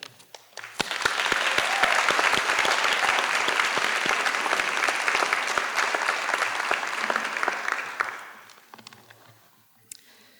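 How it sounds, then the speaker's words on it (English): Graduates at a university school of optometry convocation ceremony give sustained applause for family and friends, a dense roar of clapping that swells quickly, holds steady for several seconds, then tapers off into scattered claps. "Would you, graduates, join me in applauding your family and friends for their encouragement throughout your journey?"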